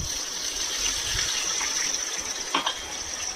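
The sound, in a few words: hot water being poured into the curry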